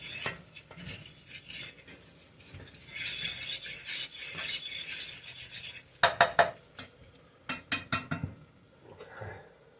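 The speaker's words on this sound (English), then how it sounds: "So there, we'll scratch that pan." Metal utensil scraping and clanking in a pan on a stove while frying steak, okra and gravy, with steady rasping strokes, then a burst of sharp close clatters near the end.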